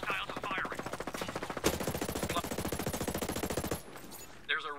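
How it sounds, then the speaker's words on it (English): Automatic gunfire in the shooter game Ghost Recon Breakpoint comes as a loud, sustained burst of rapid, evenly spaced shots that stops abruptly, followed by a short pause and one more brief shot. "Hostiles are firing."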